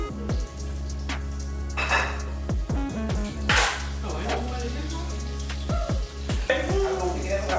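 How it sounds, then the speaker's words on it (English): Bacon sizzling in a pan for a breakfast of bacon and eggs, a steady frying crackle running throughout with occasional clinks of a pan, close by, beneath a low tonal hum. "I got bacon. I got that pan going because I'm gonna make some eggs."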